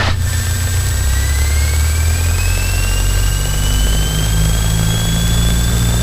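Small training airplane piston engine holding a steady run-up at 1700 RPM, a loud, continuous droning rumble with a slowly rising tone, heard from inside the cabin.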